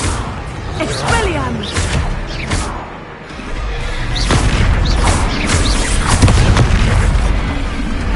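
The Expelliarmus disarming spell in Hogwarts Legacy bursts out during a duel, loud whooshing and booming magical impacts crashing one after another close up, with voices talking over the fight.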